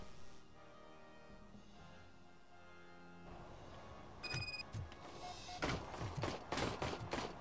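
Rapid bursts of gunfire aimed at robots in a Robocop video game, arriving as loud clustered volleys after a quieter stretch of electronic game sound.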